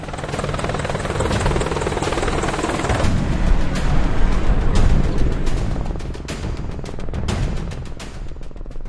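Indian Air Force Apache AH-64E attack helicopter roaring loudly and continuously, a dense rotor and turbine wash with sharp transient cracks that swell mid-clip and ease slightly toward the end.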